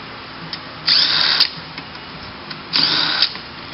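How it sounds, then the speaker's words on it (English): Two short power-tool bursts of about half a second each, close and loud, as bolts come off a Mini CVT transmission case during a teardown, with quiet workshop handling in between. "We remove all the bolts."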